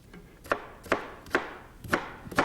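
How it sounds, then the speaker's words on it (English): Knife chopping an onion on a cutting board, five sharp evenly spaced chops close up, each with a brief woody knock, no talk. "chop up an onion and put in there too while you're at it"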